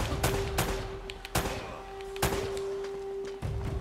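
Gunfire in the video game Uncharted: Drake's Fortune: several sharp, loud shots spaced irregularly over a few seconds, with a steady tone and game background beneath them.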